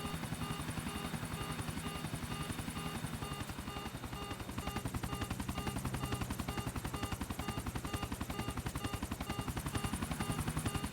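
A plane coming in to land in Grand Theft Auto IV gives a loud, steady engine drone with a fast rhythmic chop, running continuously and close without any speech over it.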